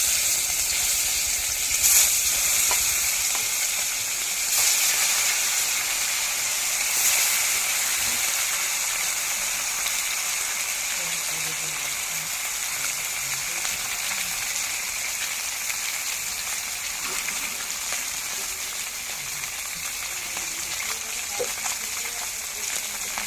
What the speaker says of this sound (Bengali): এই তেল কড়াইটাতেই মাছগুলো আমি হালকা করে ভেজে নেব